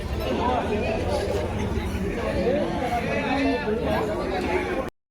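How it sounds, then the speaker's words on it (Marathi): A dense crowd chatters and murmurs in a busy gathering during a Narali Purnima celebration, a continuous babble of many overlapping voices close around, ending abruptly. "ही गर्दी आहे."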